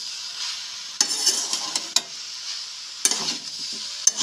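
Fig curry being sautéed in a pan with no powdered spices, a steady sizzle broken by bursts of stirring and scraping at about one, two, three and four seconds.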